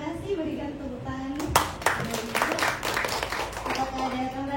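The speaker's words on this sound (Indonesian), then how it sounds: "Terima kasih, berikan tepuk tangan." Scattered clapping breaks out from an audience at a Papua Barat school gathering during an ambassador's visit, a few sharp claps building into brief applause beneath ongoing talk.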